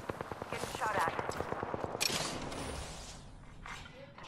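A rapid burst of gunfire in Apex Legends, a fast rattling string of shots that breaks off into a sharp crack and then fading mechanical clatter and echo.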